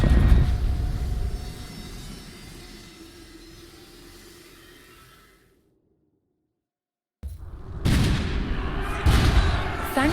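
Cannon fire in a cinematic of the Age of Empires IV Hundred Years War campaign: a loud booming blast rolls and decays into rumble, falls silent for a moment, then fresh heavy booms and crackling bursts return.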